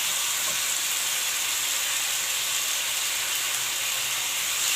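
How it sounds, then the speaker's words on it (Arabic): Chicken thighs laid on a hot grill sizzle in a loud, dense, unbroken hiss that stays constant throughout, with no voices. "كده الجريل بتاعنا سخن. طبعا هنحط بقى الوراك بتاعتنا."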